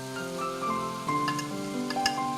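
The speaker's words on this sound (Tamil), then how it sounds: "இந்த தக்காளி வதங்கும் போது இதோடையே இந்த கீரையும் ஆட் பண்ணிடலாம்." Tomatoes and thuthuvalai leaves sautéing in a hot pan, a steady close sizzle with light crackling and occasional stirring scrapes throughout.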